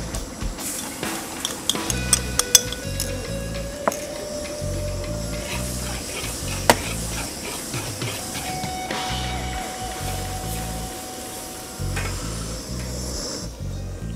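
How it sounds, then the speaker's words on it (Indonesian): Ground garlic hitting hot butter while crab is cooked in butter garlic: a steady, moderate sizzle and hiss runs throughout, with scattered clicks and clatter. "Ketika butternya udah panas bro, nih kita kasih bawang putih giling."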